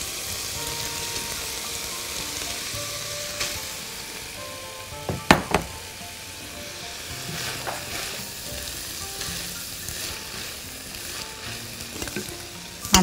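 Peas and carrots frying in a pan, giving a steady, close sizzle throughout with occasional sharp clicks and scrapes of a stirring utensil.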